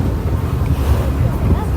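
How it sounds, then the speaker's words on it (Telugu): Cool wind gusting at a Kuwait beach beside the sea, a steady close rumble of wind buffeting the microphone with faint surf underneath, continuous and fairly loud throughout. "చల్లగా వస్తున్నది గాలి."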